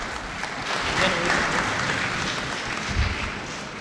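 Applause from an audience at a town-hall forum with a Hungarian prime minister, a steady wash of clapping that swells and holds at moderate volume through the whole stretch, with no one speaking.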